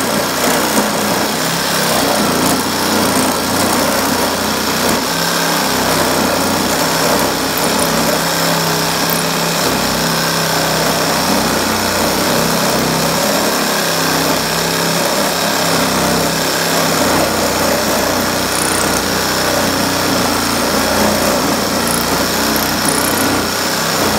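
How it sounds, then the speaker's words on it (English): A 6-amp power saw with a worn blade cuts through scrap metal, a loud, steady, high whine and grind that runs for over twenty seconds without pause. "a new saw blade would have like zipped right through this by now"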